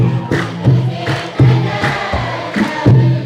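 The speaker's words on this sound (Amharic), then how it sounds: "ጭብጨባችሁ ያንሳል እባካችሁ ላዳነን ለተቤዠን ለመድኃኔ ዓለም እልልታ" Congregation in an Ethiopian Orthodox worship setting bursting into repeated waves of applause and shrill ululation, loud and close, rising in several swells over the few seconds.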